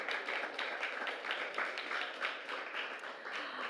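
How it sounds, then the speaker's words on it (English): A steady crowd applause with dense, continuous clapping throughout, fairly even in loudness, no voices standing out. "round of applause for our amazing artist"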